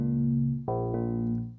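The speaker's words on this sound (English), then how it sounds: "Let's say we've got a really heavily filtered, boring sound like this." Heavily filtered synth tone from Reason's Thor synthesizer, a dull, bass-heavy sustained note that re-triggers twice in quick succession before fading out.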